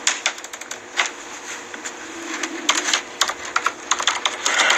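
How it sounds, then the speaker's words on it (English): Rapid typing on a computer keyboard, close and clear, with irregular bursts of key clicks over a faint steady hum and no talking. "Let's see if we could type in his name, Robert T. Baker."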